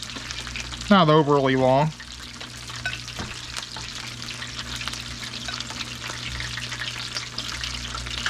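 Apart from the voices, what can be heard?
battered bacon-wrapped squirrel pieces frying in a pan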